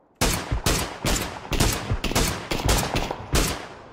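Rapid bursts of gunfire from PUBG Battlegrounds, eight or so loud sharp volleys in quick succession, close and dominant with no talk.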